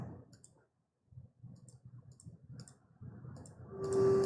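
Quiet, sparse computer mouse clicks in a block editor, with a low murmur underneath and a rising hiss near the end.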